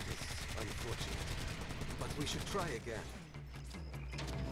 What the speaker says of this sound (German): dann können wir auch auf den schießen